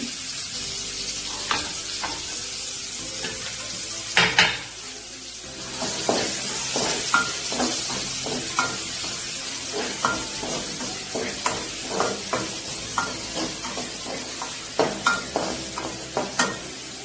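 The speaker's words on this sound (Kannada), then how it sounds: "ಸಾಸಿವೆ ಜೀರಿಗೆನ ಆಡ್ ಮಾಡಿ. ನಂತರ ಅದರಲ್ಲಿ ಅದು ಸಿಡಿದ ತಕ್ಷಣ ನೀರನ್ನ ಹಾಕಿ ಫ್ರೈ ಮಾಡಿ." Mustard seeds and cumin fry in hot oil, giving a constant close sizzle. A hissing burst comes as water is added, followed by a run of sharp, irregular pops and crackles.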